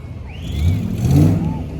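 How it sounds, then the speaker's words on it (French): Cars returning past at an outdoor car event, two passing engine swells rising and fading in quick succession, moderately close, with faint background chatter. "Là il y a encore les voitures qui reviennent."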